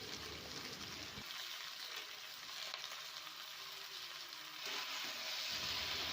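Chopped Malabar spinach tipped into hot spiced oil and stirred for a rohu fish-head chorchori, giving a steady close sizzle and hiss that swells louder toward the end, with no talking.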